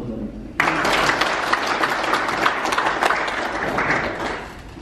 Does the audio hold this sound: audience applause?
yes